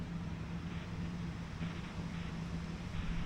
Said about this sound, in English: Starting to sound like a jet engine.